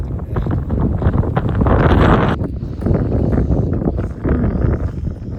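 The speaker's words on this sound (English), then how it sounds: "it's really, really, really, really windy" Strong wind roars and buffets the microphone in loud, rumbling gusts, rising to a peak and then easing slightly, in the desert ghost town of Rhyolite, Nevada, near Death Valley.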